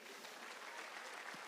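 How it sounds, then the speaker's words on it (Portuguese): A church congregation claps for Jesus during a worship service, a brief, continuous burst of many hands at moderate distance, fairly soft and even. "Se você crê assim, aplauda Jesus."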